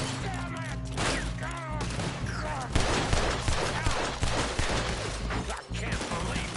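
Dense fusillade of gunfire in Red Dead Redemption 2, rapid overlapping shots and crashes filling the whole stretch, loud and close, with shouted voices mixed in.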